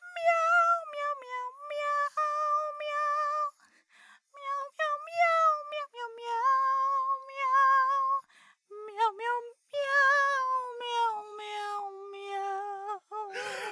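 A person playfully sings a cat song in a meowing voice, imitating a cat with a string of bright, melodic meows in phrases separated by brief pauses, close and clear.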